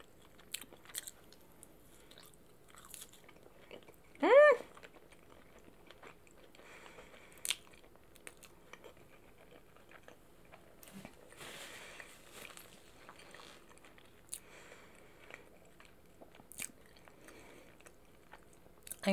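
Fries are bitten and chewed up close during a mukbang, scattered soft crunches and mouth sounds in a quiet room, with one louder vocal-like burst partway through.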